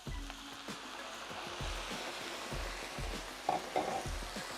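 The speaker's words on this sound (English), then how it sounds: "It's always a great sizzle." Red wine, about 200 ml, poured into a hot pan during a vegan one-pan winter dinner, giving a steady broadband sizzle with soft stirring and scraping throughout, close and continuous, with no talking.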